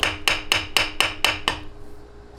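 Seven sharp metallic taps of a soft brass rod knock a part loose on a Honda CRF450 engine during a teardown, struck in an even rhythm about a quarter second apart, close and loud, then trailing off into quiet.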